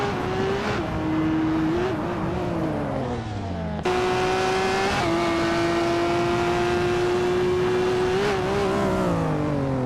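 A 2019 Radical SR5 race car engine screams at high, sustained revs during a race, its steady pitch dipping briefly at a gear change, loud and continuous throughout.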